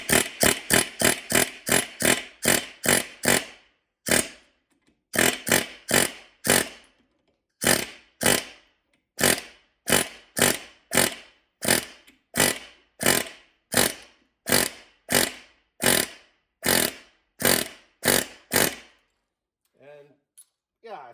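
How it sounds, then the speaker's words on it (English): An air hammer chisels a lip off a 12-bolt axle part in loud, close bursts of rapid metallic hammering, separated by short pauses, with a faint voice near the end. "just the old air hammer and just gonna catch this lip here"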